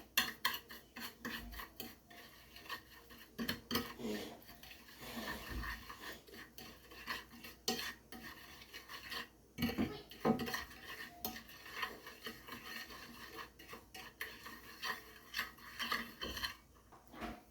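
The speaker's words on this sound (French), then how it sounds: "à l'aide d'une cuillère, je vais mélanger le tout comme ceci" A spoon mixing ingredients in a bowl for baked fish with attiéké, a quiet, irregular run of scraping, rubbing and clinking strokes against the bowl, close up with no talk.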